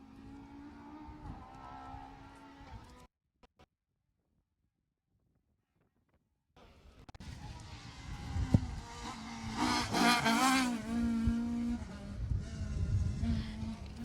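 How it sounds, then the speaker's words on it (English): A Peugeot 205 rally car runs a stage of the Jersey Rally. A distant engine drone gives way to a stretch of silence, then the car returns much nearer with loud revving and gear changes, with wind noise throughout. "Andy Corner in his little Pug 205 fighting there."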